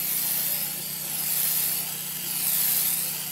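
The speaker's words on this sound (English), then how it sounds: "So I'm just going to spray this." A steady, close hiss of crack detection spray from an aerosol can onto a cylinder head, continuous for a few seconds with slight swells as the can moves back and forth.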